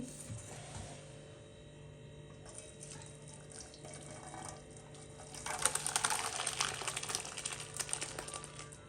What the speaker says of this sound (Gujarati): હવે આ દૂધને તેમાં ગાળી દેવાનું છે